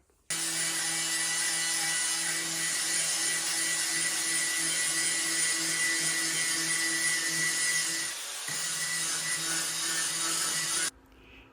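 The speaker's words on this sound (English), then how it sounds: "next step is to clean all this junk off with the angle grinder" Angle grinder cleaning scale off a fossil canister Damascus steel billet for a knife, running loud and steady for about ten seconds with a brief dip near the end before cutting off.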